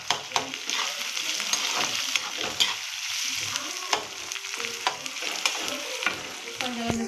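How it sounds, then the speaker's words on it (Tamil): Onions and curry leaves sautéing in a pan: a close, lively sizzle broken by the scrape and clatter of a spoon stirring, steady throughout with no talking. "கருவேப்பிலை சேர்த்து போடுங்க. நல்லா வதக்குங்க."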